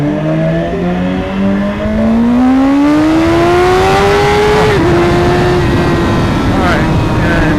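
A 2016 BMW S1000RR motorcycle with ABS switched off accelerates hard into a wheelie, its engine note climbing loudly and steadily through the revs up close, then holding high under heavy wind rush.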